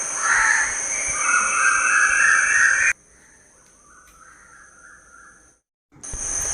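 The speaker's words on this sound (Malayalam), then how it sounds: "പിന്നെ അതേ കുറച്ച് നേരം കഴിഞ്ഞാണ് കിളികളൊക്കെ എഴുന്നേറ്റ് വരുന്നത്" Crows caw loudly and nearby at dawn, harsh repeated calls over a high, steady insect-like drone, broken by a short quiet stretch before the calls resume.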